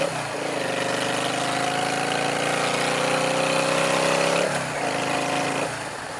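A motorcycle engine with an aftermarket loud exhaust runs with a throaty tone, holding a steady rumble, rising slightly in pitch, then dropping and revving again near the end.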